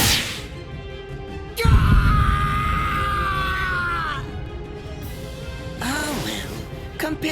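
A man screams in pain during a scene in the video game Bleach Rebirth of Souls: one long, strained cry lasting a couple of seconds, loud and close over game ambience, followed by a shorter, fainter vocal burst.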